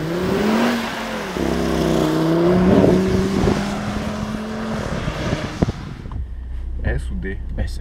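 An Audi RS Q3 on SUV tyres pulls away on a wet racing circuit for a Pirelli PZero track session, its engine droning and rising steadily before settling, with people talking inside the car throughout.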